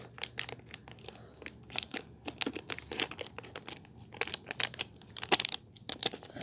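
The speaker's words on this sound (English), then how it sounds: "I'm just gonna quickly open the bag" Scissors cut open the plastic bag around a Sonic the Hedgehog toy during an unboxing, making close, irregular crinkles, snips and tearing rustles in quick bursts.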